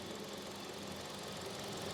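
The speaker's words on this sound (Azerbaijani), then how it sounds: "Mühərrik səssiz işləyir ha, Rəşad Usta." A Toyota Prado engine idles steadily just after an oil change, a close, continuous mechanical hum with a faint ticking texture and no change in pace across the whole stretch.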